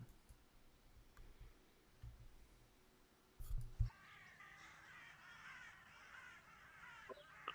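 Crows cawing in the audio of an animated pencil-drawing artwork, a busy flurry of harsh repeated caws rising after a brief muffled thump, fairly faint and with no talking over them.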